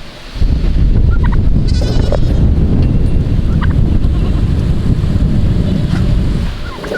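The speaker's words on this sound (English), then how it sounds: "the goats found the hay" Goats feeding at a pile of hay outdoors, with loud, steady rustling and munching close by and a few faint bleat-like calls mixed in, continuous for several seconds, no talking.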